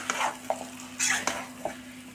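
Chicken gravy with curd being stirred in a pan, a few scraping strokes and light clinks over a low steady hum, close by, without talk.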